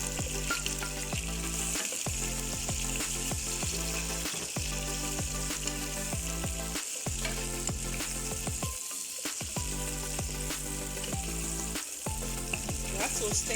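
Okra sizzles and crackles in a little hot oil in a pot, a loud continuous close frying hiss with occasional stirring scrapes.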